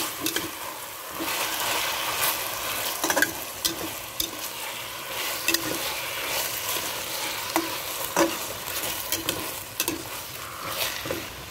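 Meat sizzles and fries in a pot with garlic, lemongrass and fish sauce for a Mekong Delta style fermented fish hotpot, a steady close crackle broken by frequent scraping clicks of stirring, with no talk.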